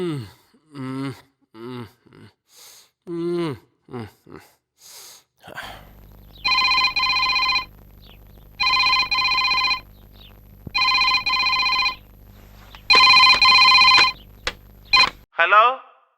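A telephone rings in four long electronic bursts with short gaps, loud and close, after a stretch of voices speaking.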